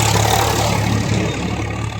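A tractor passes by with a steady, loud engine drone and a low rumble that slowly fades slightly toward the end.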